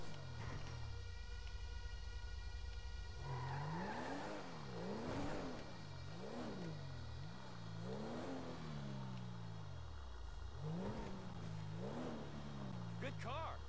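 A video game car engine revs repeatedly, pitch rising and falling in a steady rhythm of throttle blips, loud and close, with a voice talking over it.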